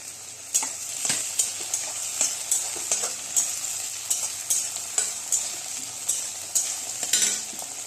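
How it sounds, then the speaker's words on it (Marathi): Onion and tomato sauté in a pan for a yellow moong usal, a bright continuous sizzle punctuated by regular, rhythmic scrapes of a spoon stirring about every half second, close and clear. "कांदा थोडं परतून झालं टोमॅटो करून घ्या"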